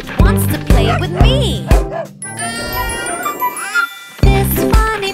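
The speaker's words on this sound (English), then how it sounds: "This funny puppy goes woof, woof, woof." A cartoon puppy barks in a rapid series of short, bright woofs, then a long whimpering whine before two more barks, with a soft jingle in the background.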